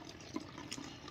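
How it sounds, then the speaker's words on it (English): Water is poured into a bottle for a refill, giving a soft, brief trickle and splash that is faint and close-up, with no speech. "Okay, so I'm gonna add the water."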